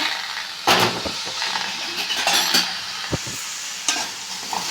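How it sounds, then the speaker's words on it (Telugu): Sliced okra frying in hot oil in a pan, with a soft continuous sizzle broken by sharp scraping and clattering strokes of a spoon stirring the pieces. "ఇప్పుడు బెండకాయలు వేయించుకోవాలి"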